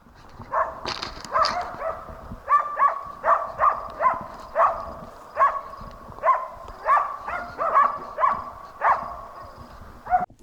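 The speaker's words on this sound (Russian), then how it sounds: "Слышу лай такой зверовой" A hunting dog barks out in the taiga, a run of sharp repeated barks at a steady rhythm with a few higher yips near the start, moderately close and alone against a quiet forest background.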